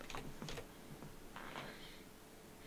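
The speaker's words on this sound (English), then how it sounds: "I'm actually going to type in my 161 and my 105" Numbers typed on a computer keyboard, heard as a few quick clusters of light key clicks with short pauses between them, close and fairly quiet, with no talking.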